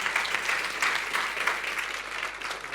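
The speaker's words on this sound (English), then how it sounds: "Let's give him a round of applause" A conference audience at a FinOps event gives a speaker a round of applause, a steady wash of many hands clapping at moderate distance, continuous and unaccompanied by speech.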